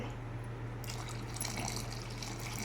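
Water poured into a simmering tamarind curry, a steady liquid fill that stays soft and continuous over a low constant hum, with no voices.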